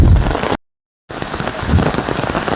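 Heavy downpour on the monsoon pilgrimage footpath from Haridwar to Neelkanth Mahadev, a loud dense hiss of rain striking the ground, cut by a brief half-second gap of silence before the steady pounding resumes.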